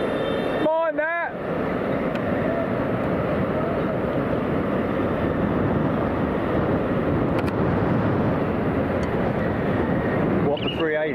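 An Airbus A380 passes overhead at a windy London Heathrow Airport, a loud, steady broadband roar that fills the whole stretch with little change, a brief whistling chirp near the start and a faint voice near the end.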